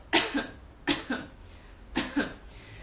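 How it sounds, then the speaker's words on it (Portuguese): Three separate coughs, each a sharp burst followed by a softer second push, spaced about a second apart, close and clear. "Agora, pensa em tossir. Tosse aí, ó."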